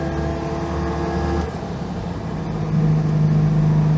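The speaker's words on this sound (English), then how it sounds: "This engine really is a proper peach. It pulls very cleanly." A Citroën 2CV with a freshly fitted engine drives along, its small engine humming steadily from inside the car, with a pitch change midway as it shifts and then pulls harder, the drone growing slightly louder toward the end.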